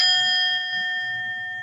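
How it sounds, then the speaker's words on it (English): A meditation chime rings once, a bright clear metallic tone that fades slowly over a couple of seconds, close and alone with no talking. "We're going to use the chime again to help us envision and imagine this."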